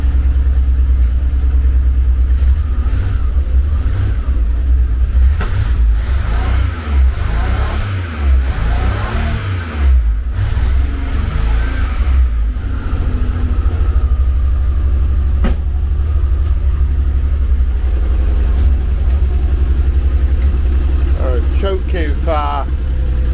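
A Reliant Scimitar GTE engine idles steadily with the choke on, a low continuous rumble close by, with a few throttle blips partway through and people talking over it.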